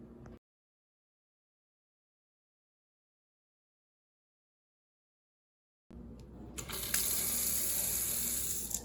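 Liquid gushes into a laboratory sink after several seconds of silence, a steady loud splashing flow like running water that continues to the end.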